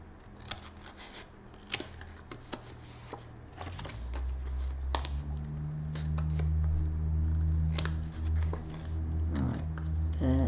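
Sharp, irregular snips of scissors cutting paper ephemera close by, with rustling and handling noises and a low hum building underneath.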